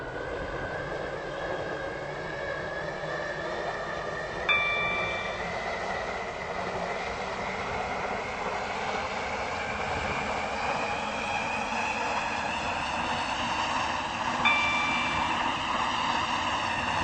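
A Class 740 train in the Stepford County Railway game runs on a service from Newry to Greenslade, giving a steady, unbroken rumbling drone with a slowly rising whine. Faint chimes sound twice.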